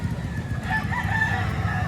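A rooster crows amid clucking fowl at a gamefowl market in Lipa, Batangas, its drawn-out call rising over a busy, constant low rumble of birds and background noise.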